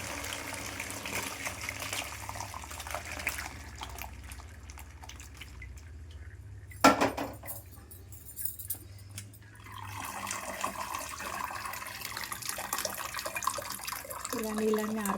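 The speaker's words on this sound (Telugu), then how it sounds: "ఇప్పుడు ఈ నీళ్ళన్నీ వడగట్టుకుందాం. ఇలా తీసుకొని నీళ్ళన్నీ వడగట్టుకోవాలి." Water drains from boiled potatoes in a home kitchen, a soft trickling and dripping with a brief louder gush partway through, faint and close, while someone speaks over it.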